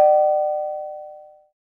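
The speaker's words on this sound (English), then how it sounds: "as the doorbell rang" A single doorbell chime rings out once, a clear bright tone struck at the start that rings and fades smoothly over about a second and a half, alone and close.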